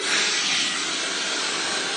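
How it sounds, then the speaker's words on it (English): A steady, loud rush of blowing air with a bright hiss, continuous and unbroken throughout, from a hair dryer running on its hottest heat and fastest speed. "I'm going to have my hairdryer on the hottest heat and the fastest speed, so full on"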